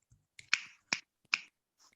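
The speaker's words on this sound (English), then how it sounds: "Can we all give finger snaps and clap for Vanij?" Audience finger snaps for a class 6 award winner at a youth closing ceremony: three distinct crisp snapping bursts in a loose sequence, fairly close, with a faint scattered snap at the end.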